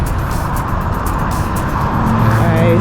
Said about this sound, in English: You can hear all the noise from the trucks.